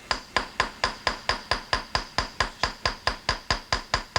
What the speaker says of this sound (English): now I'm riveting it gently